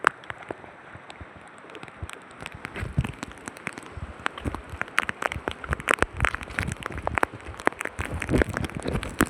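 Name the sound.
rain falling by a river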